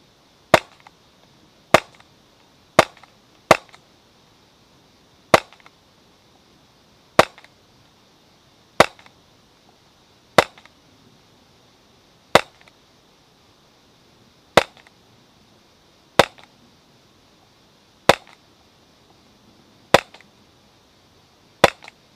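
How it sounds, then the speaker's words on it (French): An STI Duty One blowback airsoft pistol fires about fourteen sharp, snappy shots with the slide clacking, spaced at uneven intervals of one to two seconds against a quiet background. "Voilà, donc on va passer au test de tir."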